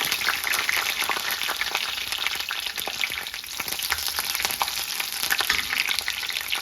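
Cinnamon sticks, cloves, a bay leaf and green chillies fry in hot oil with a steady, dense, close sizzle, lightly crackling throughout with no talk.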